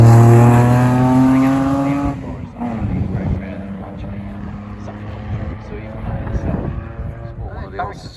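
A Renault Alpine rally car passes on a stage rally, its engine loud and close at first with a rising whine, then fading into a rough distant rumble as voices chatter over it.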